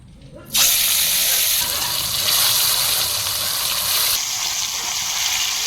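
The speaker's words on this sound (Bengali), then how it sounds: "কড়াই তেল গরম হয়ে গেছে, মাছ কটা ভেজে নিই।" Loud, steady sizzling hiss of fish frying in hot mustard oil in a kadai, starting abruptly and continuing without a break, close by.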